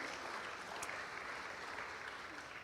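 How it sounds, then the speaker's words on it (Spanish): A church congregation in Fresno applauds during a worship service; a steady, even wash of many hands clapping continues throughout at a quiet, distant level, with no voices standing out. "Démosle un fuerte aplauso al Señor"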